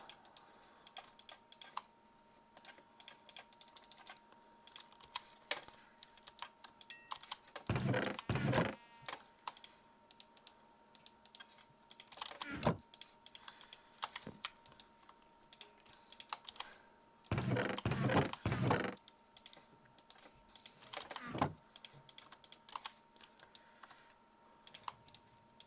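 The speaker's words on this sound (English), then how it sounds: "I just make clicking noises with my mouth, my mouse, as I move items around" Rapid computer mouse clicks while moving items around in Enigmatica 2 Expert Mode, a modded Minecraft pack, coming in dense bursts with louder clustered stretches and quieter scattered clicks between, close and with no talking.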